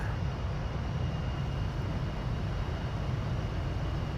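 An F-15 fighter jet waits on the airfield before takeoff, its engines giving a steady, constant broadband roar at moderate distance that neither builds nor fades, with no voices over it.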